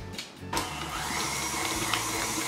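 A stand mixer kneads pan de muerto dough with butter in a bowl, giving a steady, close motor whir with a brief bump near the start and no speech.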